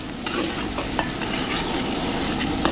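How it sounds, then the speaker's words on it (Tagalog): Garlic and onion sauté in a hot pan as the base for arroz Valenciana, making a steady, close sizzle with faint scraping and stirring throughout and no one talking. "papupulayin ko muna yung bawang sibuyas natin"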